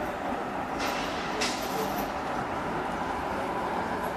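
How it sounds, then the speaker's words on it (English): A diesel-electric locomotive on a New Zealand rail journey between Tauranga and Hamilton gives a steady, loud engine rumble with a continuous roar and a couple of brief hissing bursts. "This is the diesel electric engine"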